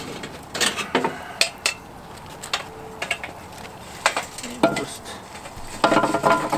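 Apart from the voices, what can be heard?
hot charcoal coals dumped onto a Dutch oven cooking surface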